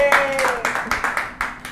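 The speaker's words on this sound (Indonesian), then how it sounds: "Tepuk tangan dong, tepuk tangan dong" A small group claps for a musician after an impromptu jam session, about eight distinct, fairly close hand claps in an uneven rhythm, with a sustained tone fading beneath the first ones.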